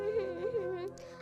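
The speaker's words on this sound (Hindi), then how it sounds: "ये रोने की आवाज़ कहाँ से आ रही है?" A cartoon bird's high, wavering whimpering cry rises and falls in short sobbing swells, close and fairly soft, trailing off near the end.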